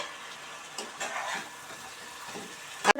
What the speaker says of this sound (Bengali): এই যে মাছের মাথা দিয়ে দিলাম মাছের মাথা মাছের দিয়ে দিয়ে দিলাম দিয়ে কষাবো ভালো করে এটাকে